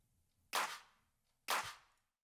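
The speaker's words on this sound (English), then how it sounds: "And then I have a few claps. Sound like this." Electronic clap samples from a slap house production, soloed: two bright, snappy claps about a second apart, each with a brief noisy tail, fairly quiet and alone.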